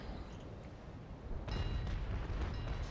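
Broadside cannon fire from sailing warships in the naval battle game Naval Action: a rumbling volley of distant booms swells midway and keeps rolling under steady low ambience, with no talk.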